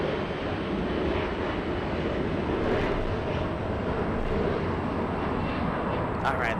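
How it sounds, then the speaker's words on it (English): An Embraer E175 regional jet takes off at Los Angeles, its engine roar a steady, broad rumble heard from a distance, continuous and fairly loud throughout. "there goes the little E175"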